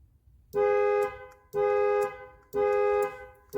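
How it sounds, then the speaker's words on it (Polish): A Mercedes S-Class horn sounds as an anti-theft alarm, giving four steady half-second blasts evenly spaced about a second apart. The car is nearby and no one talks. "Po 10 sekundach zaczyna się sygnalizowanie o braku autoryzacji, klakson i kierunkowskazy."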